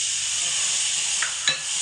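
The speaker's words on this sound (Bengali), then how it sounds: "খুব সামান্য করে একটুখানি জল দিতে হবে, এতে করে কিন্তু মশলাগুলো পুড়বে না।" Spices sizzle steadily in a hot pan after a small splash of water is added, a constant close hiss with a couple of brief sharper spits and a light stirring scrape near the end.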